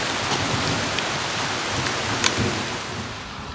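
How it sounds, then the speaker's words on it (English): Steady rain falling on the Appalachian Trail during a storm, a dense, even hiss of drops on foliage and ground that holds at a constant level throughout, with one slightly sharper patter near the middle. "Yes, it's raining on the Appalachian Trail."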